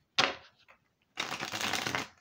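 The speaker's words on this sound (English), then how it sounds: "I'm going to break out the double kipper deck" Double Kipper fortune-telling card deck being shuffled: a short riffle burst, a couple of faint taps, a pause, then a longer steady shuffle, close and fairly quiet with no talk.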